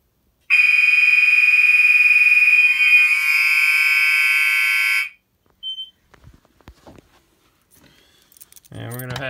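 A building fire alarm sounds during a system test of a detector below the stairs: a loud, steady electronic tone with a pulsing buzz runs for several seconds then cuts off, followed by quiet handling clatter and a person beginning to speak.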